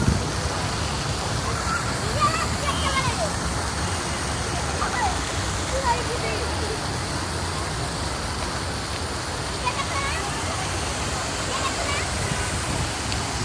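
Water from an indoor fountain at Novotheatre splashes and pours in a constant rushing spray. Voices are faintly mixed in.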